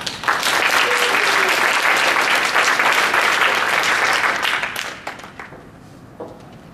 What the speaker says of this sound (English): Ladies and gentlemen, please help me in introducing Congresswoman Hanabusa.